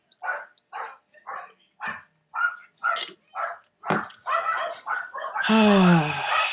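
Dogs bark in a run of about a dozen close, sharp barks at a fairly even pace, with a few quicker yips, ending in a longer, louder, whining bark.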